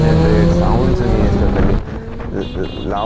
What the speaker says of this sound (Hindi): भाई Z900 साउंड सुनिए